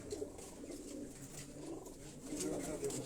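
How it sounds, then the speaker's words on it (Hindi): Kasuri pigeons coo softly in a low, repeated murmur over steady background noise, a few gentle calls rising and falling across a short stretch. "ये कसूरी कबूतरों का शौक"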